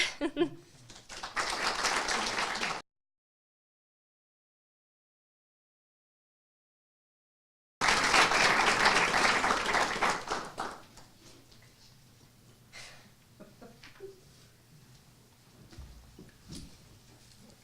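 Audience applause at a tribal and nations stakeholders focus session: dense, even clapping in two bursts split by a silent gap, then tapering into scattered claps and quiet room noise.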